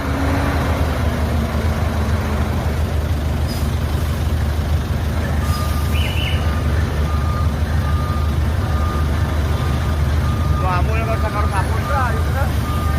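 A long truck maneuvers and turns through traffic in San Jose, Antique, Philippines, with steady loud engine rumble and a string of intermittent reversing beeps toward the end.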